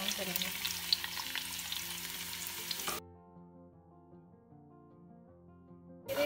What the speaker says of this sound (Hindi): अब ये जो स्लाइस अनियन थी ये इसमें डाल देंगे और इसको गोल्डन ब्राउन करेंगे।